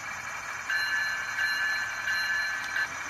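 Bell from the sound system of a ScaleTrains CSX ET44AH model locomotive, ringing in a quick repeating clang over a faint electronic hiss, close and moderately loud, no voices.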